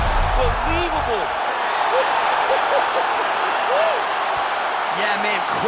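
A virtual arena crowd in the UFC 4 fighting game cheers in a continuous roar, with a commentator's voice cutting over it in short phrases.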